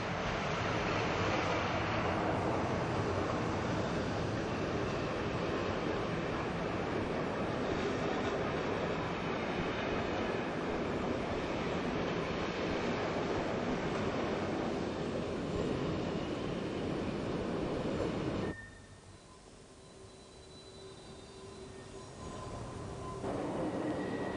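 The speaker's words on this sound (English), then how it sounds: "BLS trains head out for Interlaken and over the Lötschberg to Brig" BLS trains on the Lötschberg railway rumble along steadily with broadband rolling and wheel noise, loud and continuous before easing abruptly to a quieter hum near the end.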